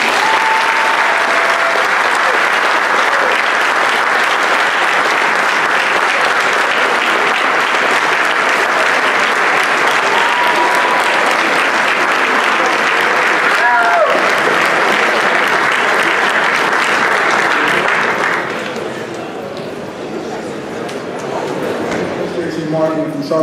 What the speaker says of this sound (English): Can we please give another round of applause?